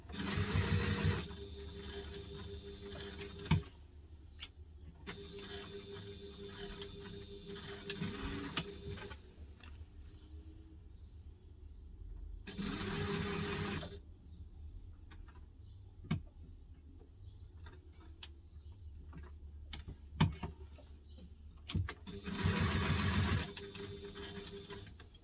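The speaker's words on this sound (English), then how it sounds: "now we're just going to sew all 4 of these around the little square, making sure you've got your top stitch length." Sewing machine running top stitching around a small square on a double zip mini wallet, in several loud bursts of steady whirring separated by quiet pauses and faint clicks, with no talking.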